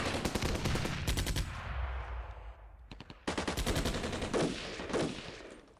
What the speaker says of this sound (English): there's grenades going off all over the place